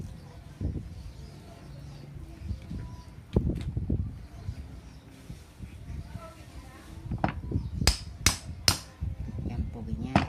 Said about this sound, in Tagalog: gamitan nyo dito ang pukpok, ang matigas